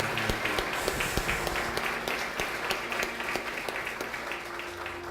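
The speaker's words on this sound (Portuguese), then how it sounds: "Mais palmas para Jesus." A church congregation claps steadily and fairly loudly, with sustained overlapping applause carrying a faint rhythmic pulse, and a few voices are audible underneath.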